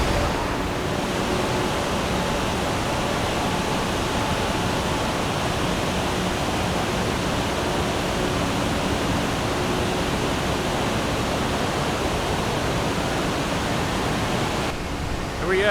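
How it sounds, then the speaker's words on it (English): Iguazu Falls roars as a continuous, dense rushing wash heard from a helicopter, blended with loud wind and rotor noise, steady and unbroken for over fifteen seconds. "We arrived to the best part of the Iguazu Falls."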